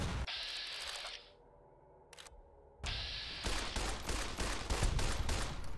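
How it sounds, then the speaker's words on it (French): Gunfire aimed at the player in Fallout: New Vegas, a burst of sharp shots, a lull with one brief crack, then dense rapid fire rattling loud and close to the end. "Aïe, on m'a tiré dessus."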